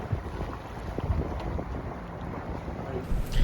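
Sailboat motoring into an anchorage for the night, with heavy wind buffeting the microphone over a steady low engine and water rumble, continuous and fairly loud.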